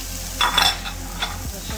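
Diced onions and green peppers sizzle in a hot pan for turkey chili, a steady close frying hiss with a couple of brief stirring scrapes, short and without talk.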